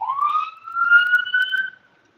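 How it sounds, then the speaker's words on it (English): An emergency vehicle siren wails once, rising in pitch and holding, then cuts off, heard clearly with no talking. "Why do I hear sirens coming down here?"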